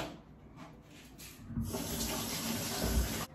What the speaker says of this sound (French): Je vais mettre de l'eau du côté où il faut mettre de l'eau.